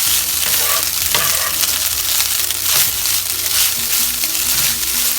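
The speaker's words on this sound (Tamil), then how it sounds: "நல்லா கிளறி விட்டுக்கோங்க." Steady sizzling and frying with scraping, stirring sounds as cooked rice for coconut rice is turned in a hot pan, continuous and close.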